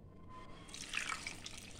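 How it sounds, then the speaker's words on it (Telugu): Water is poured from a cup into a pan of jaggery, giving a soft, brief splash and trickle that rises midway and stays faint and close. "water cup పోసానండి"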